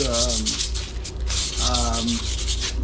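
Sandpaper rubbed over the transmission belt of a 2009 Yamaha Zuma 125cc scooter to clean off old dust: close, loud scratchy strokes in quick repeated passes, with no talking.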